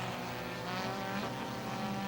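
Renault Clio race car at a Copa Clio race in Londrina sliding off onto the grass, engine roar and tire noise in a dense, steady rush without a break.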